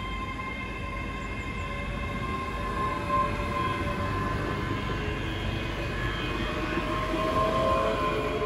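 A late-running Voyager passenger train passes through snowy conditions near Edinburgh, a steady rolling rumble and rail noise heard from a moderate distance, gradually building slightly louder toward the end with no talk.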